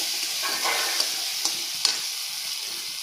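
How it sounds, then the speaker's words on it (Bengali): Slender eggplants fry in oil, an even, soft sizzling hiss with a few sharp clicks of a utensil stirring the pan, steady and close, with no voices. "সবার প্রথমে বেগুনগুলো ভেজে নিলাম আগে"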